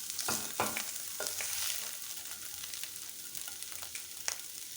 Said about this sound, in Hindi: और अब चिकन जो बॉईल किया हुआ था उसको भून लेंगे